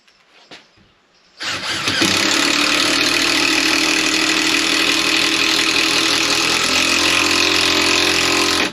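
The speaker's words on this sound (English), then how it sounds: "Powerful little drill, isn't it?" An electric drill bores through wood along the grain, working from the back without a pilot hole; after a brief quiet start, a loud, steady motor whine kicks in and runs unbroken to the end.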